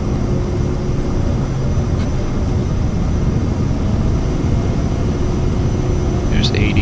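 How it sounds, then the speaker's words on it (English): Vision Jet engines roaring at full takeoff power in Microsoft Flight Simulator, a steady, loud, continuous jet drone that fills the whole stretch, with a voice talking over it. "Full power for takeoff."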